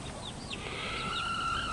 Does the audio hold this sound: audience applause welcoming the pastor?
no